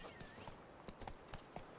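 Hooves of Roach, a horse ridden in The Witcher 3 video game, clopping in an uneven rhythm on ground, faint and close, with a brief snort or whinny.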